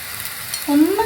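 Spinach hitting a hot pan for ragi roti, a short burst of sizzling and stirring that swells up near the end of the brief moment, close and fairly loud.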